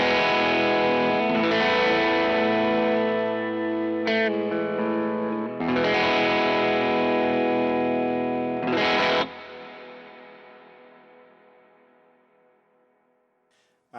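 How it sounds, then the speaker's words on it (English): Electric guitar chords ring out through a Vox AC30 amp via a Strymon Iridium with a clean, slightly chorused, echoing tone, strummed a few times before the last chord slowly fades. "this is what my clean tone sounds like."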